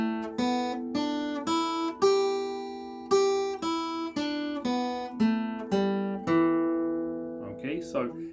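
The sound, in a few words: guitar scale notes played in reverse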